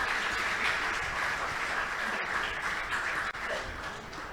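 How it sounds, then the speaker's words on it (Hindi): Steady applause from a Ram Katha audience at a religious discourse, a dense, even wash of clapping lasting throughout with no clear break. "हाँ, ताली बजा लो आप, इसमें क्या दिक्कत है?"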